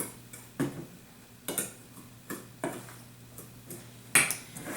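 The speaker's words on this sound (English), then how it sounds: "I just have a fork, and that's how I mix these together generally, just to kind of incorporate them all together" A fork mixes flour and dry ingredients for a pumpkin roll in a bowl, giving light, irregular clinks and taps against the bowl, several distinct strikes spaced about half a second apart, close and fairly quiet.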